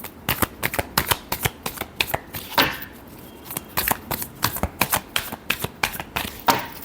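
Tarot cards are shuffled by hand in a steady series of crisp riffling snaps and soft slaps, close and distinct, with one longer brushing shuffle partway through.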